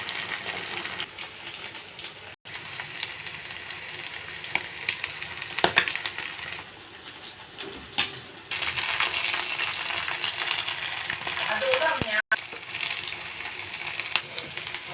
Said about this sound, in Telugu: ఒక రెండు మూడు పచ్చిమిరపకాయలు కూడా ఇందులోనే వేసి వేయించుకుంటాం